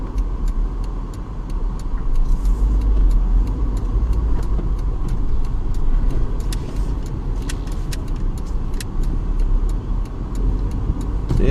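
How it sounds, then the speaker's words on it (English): A 1999 Honda Civic VTi making a slow U-turn, with a steady low engine and road rumble heard from inside the car and light rattles over it. "Take a U-turn from here and see how it turns."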